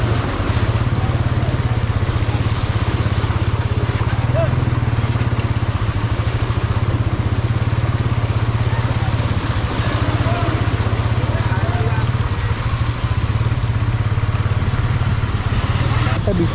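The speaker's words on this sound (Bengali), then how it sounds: "মনে হচ্ছে বন্যার মধ্যে বাইক চালাচ্ছি" A motorcycle rides through a flooded city street at night, its engine a loud, steady drone with water noise throughout, close and continuous.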